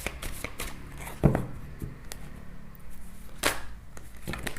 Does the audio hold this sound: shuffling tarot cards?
yes